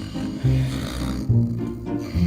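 A person snores in a bedroom, with two deep, rasping inhalations close to the listener, heavy and guttural.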